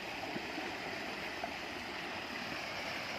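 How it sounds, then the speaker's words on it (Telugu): Heavy rainwater rushes down from the hills after a downpour, a steady, dense roar of torrential flow that holds at an even loudness throughout with no voices. "వాటర్ ఫ్లో చూడండి ఎంత భయంకరంగా పడుతుందో."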